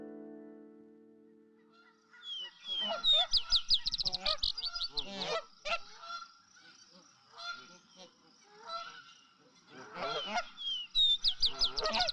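Geese honk repeatedly in loud bursts, with several overlapping calls rising and falling across the stretch. A low tone comes first, then the calls cluster into two busy bouts separated by quieter gaps.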